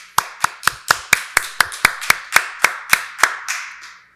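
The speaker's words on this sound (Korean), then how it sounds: "박수로 하나님께 영광 돌리겠습니다" Church congregation at a Sunday worship service clapping in unison, about a dozen sharp, evenly spaced claps that slow slightly and fade out, close and loud with no talk.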